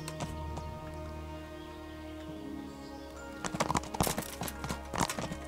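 Hooves clip-clop at a walking pace in the video game Kingdom Come: Deliverance, starting after a few seconds of humming background with faint bird cooing, fairly close and rhythmic.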